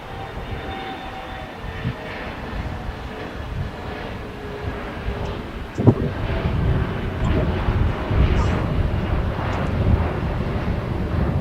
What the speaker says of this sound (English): Now arriving on 25 left, here on the south side, is Delta Airlines Flight 785 on a 737-900ER